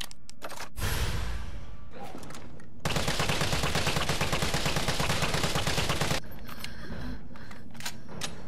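An assault rifle fitted with a scope and magazine in Resident Evil 3 Remake fires a short burst, then a long sustained stream of rapid automatic fire, loud and close, with brief quieter gaps of mechanical handling.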